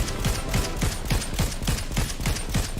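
Rapid bursts of automatic gunfire in a video game firefight, roughly ten evenly spaced shots in a steady rhythm, sharp and close, with no talk over them.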